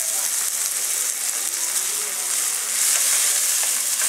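Onion and tomato cooking in a pan for methi chaman, a dense continuous hiss of frying that stays loud and even throughout, swelling slightly toward the end.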